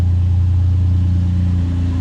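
A turbocharged Nissan 350Z engine running loud and close, a deep steady rumble with a low harmonic drone and a faint clatter, holding a fairly even pitch rather than a sharp rev.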